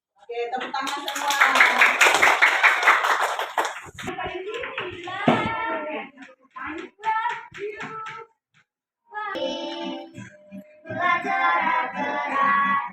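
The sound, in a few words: classroom clapping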